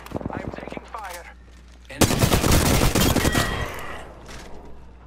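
Rapid automatic gunfire bursts from a battle in the video game Apex Legends, loud and dense from two seconds on, with short shots and game voice sounds before it.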